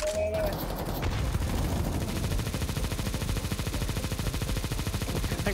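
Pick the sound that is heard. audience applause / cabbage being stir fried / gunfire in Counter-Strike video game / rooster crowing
gunfire in Counter-Strike video game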